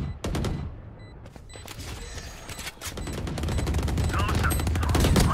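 Rapid bursts of gunfire from the Apex Legends video game, loud and dense with repeated shots, building in intensity, with a voice speaking briefly over it.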